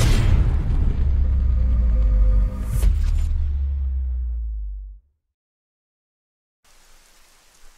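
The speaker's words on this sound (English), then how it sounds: "Why would you throw like a flashbang at me?" A heavy boom from a flashbang in the video game Ghost Recon Breakpoint is loud and close and rolls off into a long fading rumble. Silence follows, then faint background noise returns.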